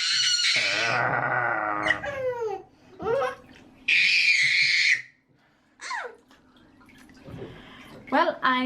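A toddler plays in the bath with his father, with high squeals, babbling and laughter mixed with splashing water and an adult voice speaking in between.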